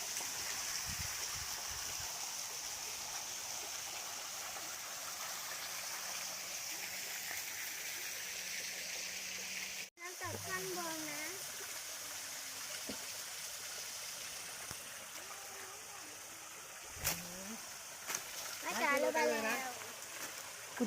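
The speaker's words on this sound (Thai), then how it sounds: "เป็นลำธารเล็กๆ ยาวตลอดทางค่ะ" Small stream flowing along a cave area, a steady broadband water wash that runs continuously at moderate level, with a brief dropout midway and some speech and splashing sounds toward the end.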